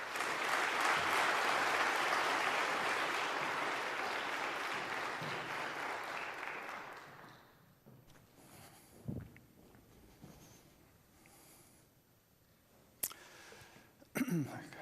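A live audience applauds loudly to welcome a speaker at a lecture series. The sustained clapping fades out after about seven seconds. A quiet room follows, with a few scattered knocks and thumps.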